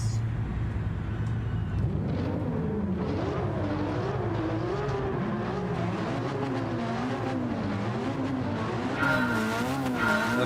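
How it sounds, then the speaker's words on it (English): A BMW race car in Gran Turismo 7 roars close by, its engine note rising and falling through gear changes, with tire squeal and skidding along the way. "The BMW sounds really nice, by the way."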